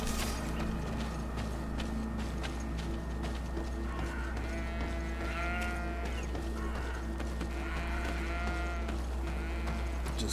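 Sheep bleat several times in the video game GreedFall, wavering calls rising over a steady, dense bed of in-game ambience with faint hoof-like clatter, and no one speaks.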